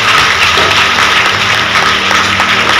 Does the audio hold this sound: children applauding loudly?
yes